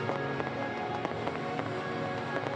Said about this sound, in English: And now we blast fireworks